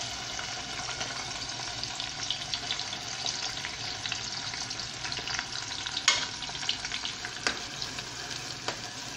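Onions sizzling steadily in a large batch of hot oil for Egyptian koshari, a dense continuous frying hiss with occasional stirring knocks and small pops, close and even throughout.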